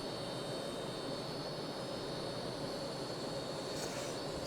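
A Hawker Hunter jet on its take-off roll in the Prepar3D flight simulator gives a steady, constant roar of broadband jet noise with a faint high whine, alone and unchanging throughout.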